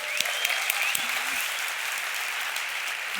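Steady audience applause at a Christian gathering fills the whole stretch, a dense wash of clapping with a few louder claps near the start.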